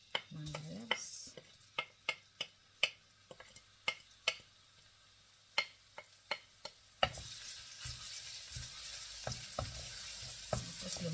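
Garlic is dropped into hot cooking oil and suddenly sizzles loudly and steadily. Sharp utensil taps against the pan come before it and carry on through the frying.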